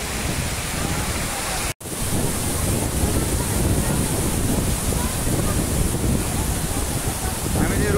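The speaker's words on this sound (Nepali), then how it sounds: "हामी चाहिँ रुक्सेको झरनामा छौँ" Ruksey waterfall in Mustang, Nepal, roars as a loud, dense, unbroken wash of falling water with wind buffeting the microphone. It cuts out for a split second early on, then carries on steadily.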